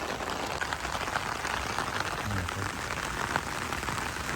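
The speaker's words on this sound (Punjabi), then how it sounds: "ਬੜਿਆ ਮੀਂਹ ਪੂਰਾ ਪੈ ਰਿਹਾ ਹੁਣ ਆ ਪਾਣੀ ਪਾਣੀ ਹੋਵੇ ਖੇਤਾਂ ਦੇ ਵਿੱਚ" Heavy rain pours steadily over farm fields, a dense, continuous hiss of falling water that stays constant from start to finish.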